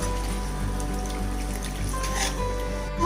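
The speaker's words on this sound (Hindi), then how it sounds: "अब ये मेरा मसाला अच्छे से पक गया है, तो अभी हमें इसमें पानी डालना है।" Water is poured into a pan of well-cooked egg curry masala, a steady trickling, splashing wash close by that runs on without a break, with a few faint tonal hums in the background.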